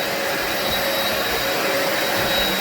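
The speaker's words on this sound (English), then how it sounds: "when you vacuum a carpet one way, you have to go the other way" Vacuum cleaner running over a soot-covered carpet after a house fire, a steady, loud, close whine with broadband hiss that holds evenly throughout, no speech.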